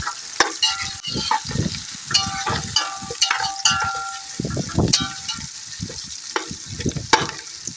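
Two large chopped onions frying in a pan as the base for boneless mutton pulao, with a steady sizzle under repeated close stirring and scraping strokes in an uneven rhythm.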